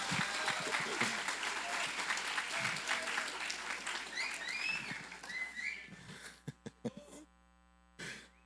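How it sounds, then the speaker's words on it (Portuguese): An audience applauds a guest named Salles, with dense, steady clapping at first that thins into scattered claps near the end, alongside some cheers, whistles and voices. "Uma salva de palmas pro Salles."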